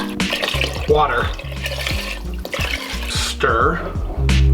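Water pours into a soup pot of sweated vegetables and bay leaves, splashing and gurgling in bursts close by, with a person talking over it.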